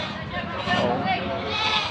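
Goats bleat at a livestock market on a stormy day, their calls overlapping continuously close by amid a busy background.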